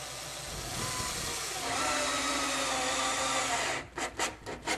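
A 2.5-inch screw is driven into a lower cabinet's kick board: a steady close whirring grind gives way to several short, sharp driver bursts at the end.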